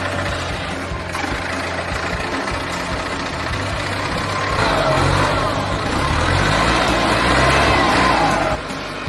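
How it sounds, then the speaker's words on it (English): A Detroit diesel engine on a heavy logging truck growls loudly and continuously, its low rumble climbing in pitch as it revs, then cuts off near the end. "You hear that Detroit diesel growling long before it appears."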